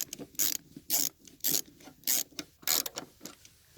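Screws are driven back into the plastic reverse light housing of a Hummer H3, making a run of sharp ratcheting clicks in quick, regular bursts that sound close and fairly loud.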